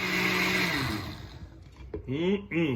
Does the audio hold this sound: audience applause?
no